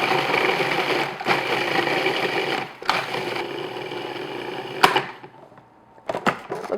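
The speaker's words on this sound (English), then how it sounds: "So now I'm just going to process this until it's nice like crumbs." Food processor chopping ricotta cheesecake crust ingredients into crumbs with a steady whirring rattle in several bursts, close up, ending in short pulses after a brief stop.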